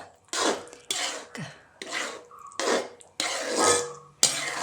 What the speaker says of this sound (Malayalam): ഇളക്കിക്കൊണ്ടിരിക്കുക നല്ല കട്ടിയായി വരുന്നുണ്ട്